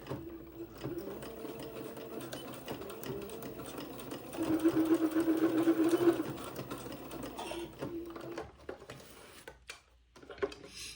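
Sewing machine stitching back and forth to tack elastic on a diaper shirt, a steady close mechanical whirring that swells louder for a couple of seconds midway, with no talking.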